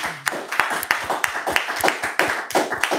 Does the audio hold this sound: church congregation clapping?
yes